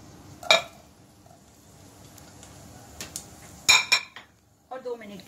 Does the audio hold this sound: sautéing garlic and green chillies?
yes